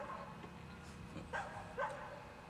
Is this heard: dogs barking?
yes